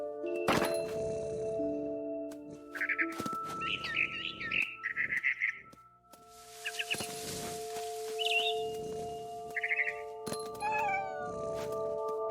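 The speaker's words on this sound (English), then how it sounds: "It was a barn swallow going back to her nest." A barn swallow chirping in the game What Remains of Edith Finch, bright repeated chirps and trills over a music bed, with cat meows and yowls mixed in.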